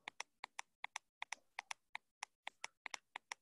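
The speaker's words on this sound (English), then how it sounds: "There's a lot of clicking and background noise." Rapid keyboard clicks in a quick, uneven typing rhythm, crisp and close with short gaps between bursts, no talking.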